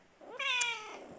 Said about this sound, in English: Our new cat is meowing as my background if you can hear him.